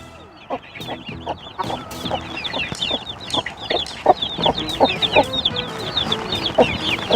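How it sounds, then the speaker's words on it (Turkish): Many small newly hatched summer chicks peeping in rapid, overlapping chirps, with occasional lower clucks from a hen nearby; busy and fairly close. "minik civcivlerimizi, yaz civcivlerimizi bir gösterelim"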